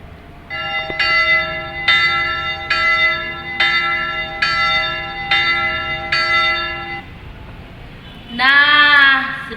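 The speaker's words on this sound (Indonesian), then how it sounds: "Itu tanda lonceng gereja." A church bell rings loud and close. It gives seven evenly spaced metallic strikes with long, ringing overtones, and a brighter, denser chime swells at the end.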